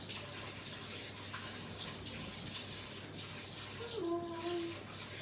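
A gas-heated hot water tap runs steadily into a sink as it waits to warm up, a faint continuous splashing stream with a short whistling tone near the end.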